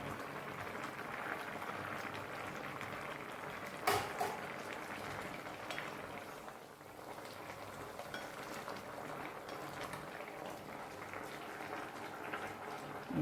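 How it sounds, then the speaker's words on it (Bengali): A lidded pot of vegetables such as radish, purple yam and pumpkin boils gently, giving a faint, steady bubbling hiss throughout with a single soft clink partway through. "এবার এটাকে ঢাকা দিয়ে একটু ফুটিয়ে নেব।"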